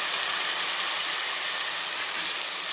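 Drumstick pieces (munakkaya) frying with turmeric in a pan for a tomato masala curry give a steady, continuous hiss and sizzle that holds at an even level throughout, with no talking.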